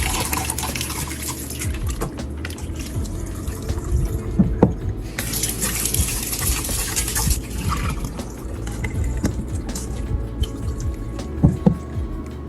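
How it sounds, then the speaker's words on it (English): Skinless chicken thighs, soaked in lime juice, are rinsed under running water. A steady, close gush of water carries splashes and drips throughout, with no talking. "I prep and wash the chicken by soaking it in some lime juice and rinsing it with some water"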